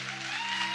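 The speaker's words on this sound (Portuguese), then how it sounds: "Você pode aplaudir o Senhor Jesus por isso." Church congregation applauding during a service, a short dense wash of clapping with a steady low hum beneath it.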